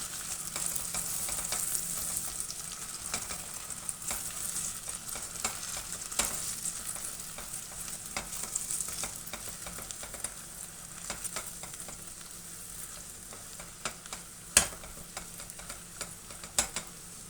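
Vegetables sizzle steadily in a hot pan while a utensil stirs and scrapes through them in repeated strokes, close up with no talking.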